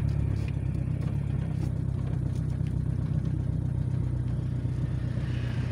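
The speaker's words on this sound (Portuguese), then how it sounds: "o Corcel chega tranquilo nessa velocidade aí, roda bem." A 1977 Ford Corcel driving along a narrow road, its steady mid-range engine drone and low rumble continuous and close throughout, with faint clatter and no talking.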